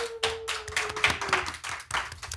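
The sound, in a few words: audience applause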